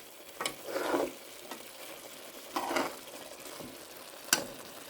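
Chicken and spinach curry cooks in a pan, giving soft, intermittent sizzling and a few light stirring scrapes and knocks at low volume, without any voices.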